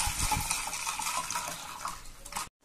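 Drinking water poured into a container for mixing with caustic soda, a steady broadband splash and gurgle running close and continuous, then cutting off abruptly near the end.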